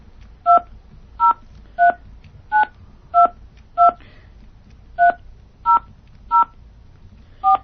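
A telephone number dialed on a keypad, giving ten crisp two-tone DTMF beeps in a steady rhythm with a brief pause after the sixth, loud and close over a quiet background.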